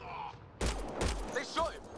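Gunfire in the video game Mass Effect Andromeda, a couple of quick sharp shots with whooshing effects, faint and mixed with game sounds.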